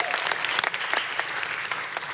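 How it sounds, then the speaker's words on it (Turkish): A studio audience at a Turkish game show claps in steady, dense applause, loud and close, with a voice faintly underneath. "Alkışlarınızı böyle alayım."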